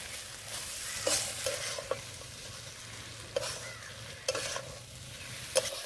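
Soybean chunks and egg curry masala being stir-fried in a pan, a low steady sizzle with intermittent scraping clacks of the spatula stirring, fairly faint and close, with no talking.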